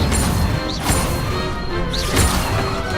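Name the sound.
fire spell Incendio cast in the video game Hogwarts Legacy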